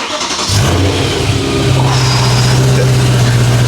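A BMW M3 engine starts and revs up, building into a loud, sustained mid-pitched roar with a steady droning tone, heard close by with no talk over it.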